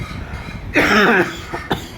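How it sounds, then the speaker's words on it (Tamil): A single harsh cough close by, a short burst followed by a smaller catch, over quiet background murmur aboard an air-conditioned train between Chennai Beach and Chengalpattu. "அதான் இருமல் பார்த்திங்கன்னா அதான் அப்படின்னு வேறு ஒன்றும் இல்லை"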